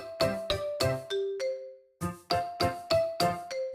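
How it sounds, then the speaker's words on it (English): A classroom bell rings out in a bright chiming sequence, a run of four clear ding tones, a longer held pair, then four more, close and alone. "as he walked out the door, the classroom bell rang."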